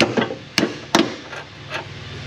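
Metal hammer strikes on car suspension parts during coil spring and subframe work: two sharp, close blows followed by fainter taps, irregularly spaced.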